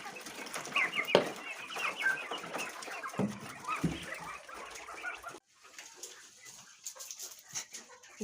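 Hens clucking and murmuring in a busy barnyard by a shed, with a dog-like bark or two and scattered bird calls, fairly close.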